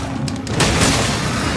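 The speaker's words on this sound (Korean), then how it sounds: "김면족들이 대포 쏘는 거 보세요" Booming cannon shots fire in a rapid, overlapping volley in the video game Monster Hunter World, loud and close, merging into a sustained rumbling barrage.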